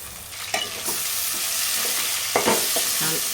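Washed chicken goes into a pan of frying chopped coriander for Andhra-style gongura chicken, giving a loud steady sizzle with a few sharp clacks of a spoon stirring.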